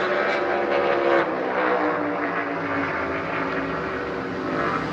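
A NASCAR Cup Series race car engine roaring at full throttle during the final qualifying round of the 2022 Ruoff Mortgage 500, a steady, loud, dense drone that holds without break for the whole stretch.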